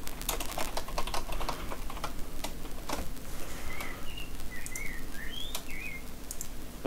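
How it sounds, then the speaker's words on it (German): Loud, rapid clatter of computer keyboard keys struck hard and steadily, with a few faint bird chirps in the background. "Die Tastatur ist aber echt laut"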